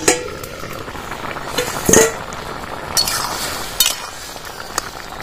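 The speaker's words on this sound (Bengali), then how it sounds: "এবার ঢাকনাটা খুলে নেব।" A metal lid comes off a pot of boiled raw green mango with a sharp clink near the middle, followed by a few lighter clinks against quiet kitchen background.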